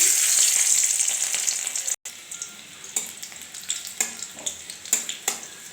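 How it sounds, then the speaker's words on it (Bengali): Crushed garlic frying in hot mustard oil in a wok, a steady bright sizzle with a brief cut near two seconds, then a series of soft stirring scrapes over the continuing hiss. "একটু হালকা করে ভাজবো রসুনটা।"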